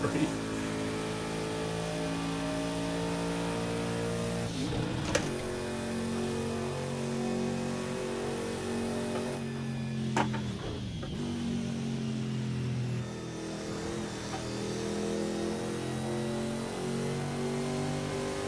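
A race car engine in Project Cars 2 revs and accelerates through rising gear pulls with brief shift dips, a steady, close mechanical drone with talk over it.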